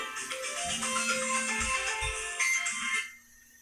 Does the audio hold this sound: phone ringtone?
yes